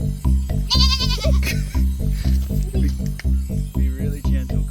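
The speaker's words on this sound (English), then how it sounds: "Check out these baby goats." Baby goats bleating on a farm, several loud close cries over a rhythmic pulsing background, with a brief higher wavering call standing out.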